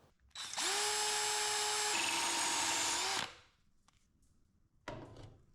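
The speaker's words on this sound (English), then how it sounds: "and now it's drill time." A power drill whines loudly and steadily for about three seconds while drilling out a wooden dowel on a Triumph Bonneville exhaust, dropping pitch briefly midway, then stops; a short rattle follows.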